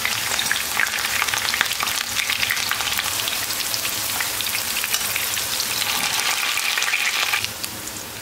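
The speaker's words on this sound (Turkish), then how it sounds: "Bunları da aynı şekilde hızlıca kızartayım." Eggplant slices fry in hot oil, a loud, continuous crackling sizzle with dense spitting pops that holds steady throughout, with no voices.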